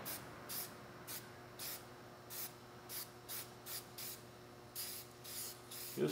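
A Rust-Oleum satin rattle-can spray paint is misted lightly over rear bumperettes in short, even hissing bursts, about a dozen quiet passes back and forth at close range with no talking.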